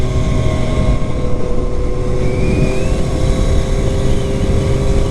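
A 2022 Triumph Street Triple R engine pulling hard in fourth gear around 4,000 to 5,000 rpm, a loud steady drone with a slowly rising pitch and heavy wind rush from a riding perspective.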